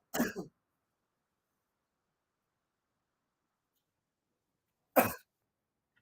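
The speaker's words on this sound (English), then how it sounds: "Slight cough." Two short, dry coughs sound close by, spaced several seconds apart with silence between them.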